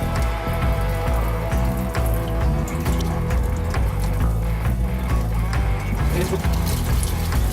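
Continuous running water splashing and trickling close by over a hand during makeup brush cleaning, a steady wet rush with small irregular drips throughout.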